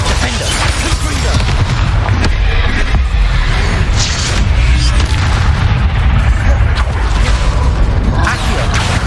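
Confringo explosion spell cast in the Hogwarts Legacy video game, heard as loud, continuous booming blasts with dense rumbling low end and crackling bursts throughout, layered with other spell effects and game sound.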